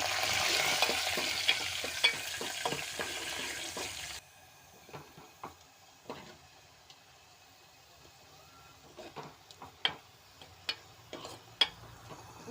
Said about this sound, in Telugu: కచ్చపచ్చగా దంచిన వెల్లుల్లి, సన్నగా తరిగిన ఉల్లిపాయలు ఎర్రగా వేయించుకోవాలి.